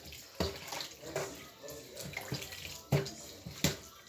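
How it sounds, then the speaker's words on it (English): Kilishi being rinsed and rubbed in water to wash off the pepper, splashing and sloshing in bursts with a few sharper splashes, close by in a sink or bowl. "I'm still washing so that the pepper can be washed off."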